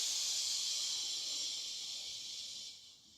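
A long, steady 'che' hiss of breath is exhaled during a yoga flow, close and soft, gradually fading toward the end with no talking.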